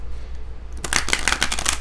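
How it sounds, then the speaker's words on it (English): A tarot card deck is shuffled close up, a rapid riffling burst of crisp card flicks starting after a quiet moment and continuing to the end. "this is another one that I don't mind actually shuffling"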